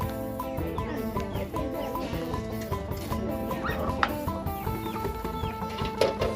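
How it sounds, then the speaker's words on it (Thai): Free-ranging village chickens clucking close by, a busy overlapping stream of short clucks and calls that continues throughout with no voices over it. "เป็นไก่แบบบ้านๆเนาะ"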